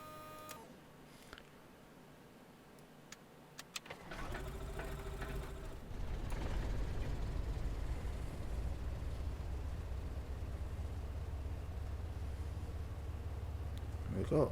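A Cessna 182 piston engine starting in the Prepar3D flight simulator, with clicks and a starter whine giving way to a rough catch and then a steady, loud running drone.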